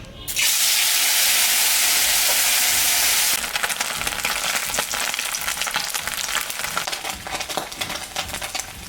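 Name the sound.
chela fish frying in hot mustard oil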